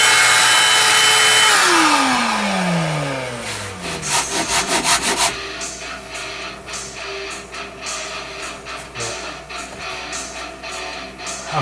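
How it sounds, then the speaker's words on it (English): A hand saw cutting through wood at a cluttered workbench for a scratch-built model, opening with a long falling scrape and then settling into rapid, rhythmic back-and-forth rasping strokes close to the microphone. "I know you guys are making jokes about the way I'm using the saw here"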